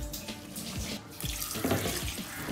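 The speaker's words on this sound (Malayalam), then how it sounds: "ആദ്യത്തെ രണ്ട് മൂന്ന് കഴുകു വരെയും കുറച്ച് വെള്ളത്തിൽ ഇട്ട് മീൻ കഴുകിയെടുക്കുവാൻ ശ്രദ്ധിക്കുക." Anchovy fish being washed in water, with continuous splashing and water running, rubbing and sloshing sounds up close and steady, no voices.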